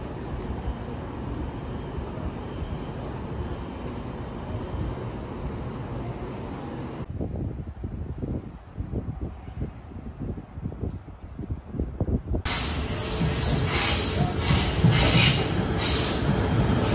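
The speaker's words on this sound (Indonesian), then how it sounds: "Sekarang saya sedang menunggu komuter di stesen komuter" A KTM Komuter train rumbles through a station in Malaysia, wheels clattering on the rails, then a loud hissing, screeching burst near the end.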